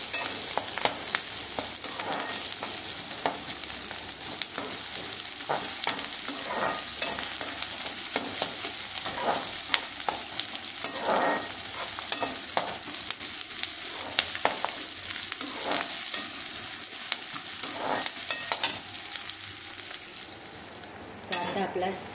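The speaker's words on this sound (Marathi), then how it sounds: "कांदा आपला छान परतलेला आहे, लालसर झाला आहे चांगला." Two onions frying in a pan until reddish, a continuous loud sizzle with frequent scraping stirs for sev bhaji, no talk.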